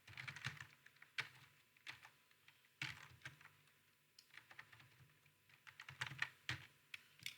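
Typing on a computer keyboard at a command line, bursts of close, crisp key clicks separated by short pauses, with no talking.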